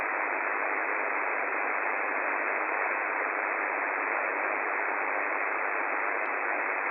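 Steady, loud band-limited hiss of noise on an amateur radio contest band, a flat, unbroken static wash with faint brief clicks scattered through it, heard alone without any voices.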